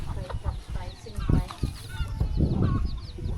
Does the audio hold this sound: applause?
no